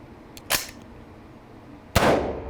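AR-15 rifle fired at a bulletproof plate, with sharp, loud shots ringing out in quick succession, the last one booming with a longer decaying tail; no voices.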